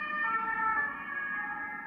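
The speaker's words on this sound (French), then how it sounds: "Merci à la sirène." An emergency vehicle siren wails steadily and clearly for the whole moment, a sustained tonal blare with no voices over it.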